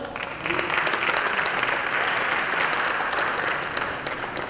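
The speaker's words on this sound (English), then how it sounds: "So can you give them a round of applause?" A dinner audience at a business and government gathering applauds members of the 44th Senior Executive Course, a full, sustained round of clapping from many people that swells after a brief start and holds steady.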